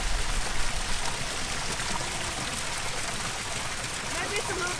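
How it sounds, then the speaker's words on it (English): Water from the Trevi Fountain's source flowing in Rome, a steady rushing and trickling stream heard close by, with voices talking over it. "So this is the same water of the Trevi Canyon."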